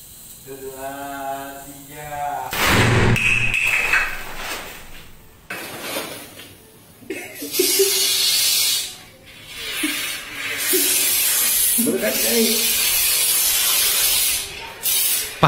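A shaken Coca-Cola bottle is opened, releasing loud bursts of hissing, fizzing spray that come in several strong waves separated by short pauses; people speak briefly at the start and between the bursts.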